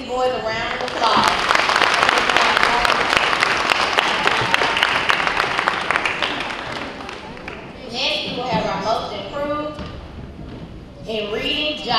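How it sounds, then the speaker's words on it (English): Audience applause for boys at a 3rd and 4th grade school awards ceremony, a sustained burst of clapping that fades, followed by a speaker's voice announcing further names. "Can we give these boys a round of applause?"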